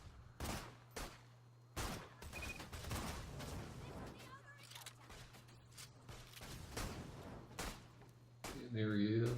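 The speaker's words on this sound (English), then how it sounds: "I can't shoot through that wire with the other weapons, so now I'm getting out of a" Sniper rifle gunfire in Borderlands 2, heard as several sharp shots at irregular intervals over a busy game soundscape with a steady low hum, followed near the end by a burst of distorted, warbling effects.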